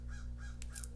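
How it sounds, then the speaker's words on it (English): A crow caws outside a window in the early morning, giving three or so hoarse calls in a quick series at moderate distance over a low steady hum, with no voices. "I don't know if y'all can hear the crow I have outside my window."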